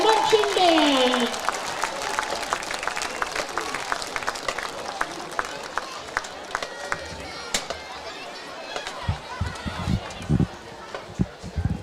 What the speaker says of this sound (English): me give one more round of applause to the Berwick Area High School Marching Band